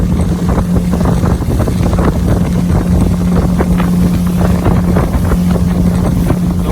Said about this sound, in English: Windy today.